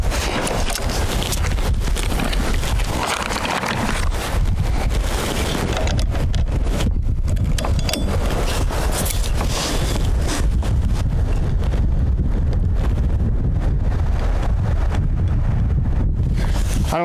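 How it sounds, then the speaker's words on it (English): Gusty wind buffets an outdoor microphone in loud, rumbling surges that rise and fall throughout, with no voices. "I don't know if you can hear that wind or not, but it is gusty."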